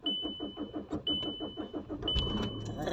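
A car's starter cranks in a quick, even rhythm of pulses, then the engine catches and settles into a running rumble, while a steady electronic beep chimes on and off, close and fairly loud.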